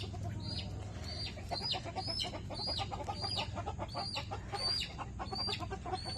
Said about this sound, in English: Lou is the biggest, baddest silky rooster you will ever meet, ever